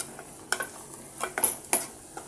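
Spoon scraping and clinking in a pan as spice masala is stirred for a coconut and chana dal curry, a few irregular light scrapes and taps with a soft sizzle underneath, close and fairly quiet.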